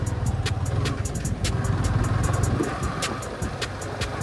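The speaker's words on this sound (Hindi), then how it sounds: "सो ट्रैफिक भी आज अच्छी खासी है।" Road traffic passes around a motorcycle riding on a busy road, with steady engine drone and rushing wind, punctuated by repeated high horn-like beeps and clicks, loud and close.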